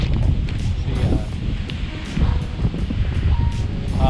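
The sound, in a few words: strong wind at the beach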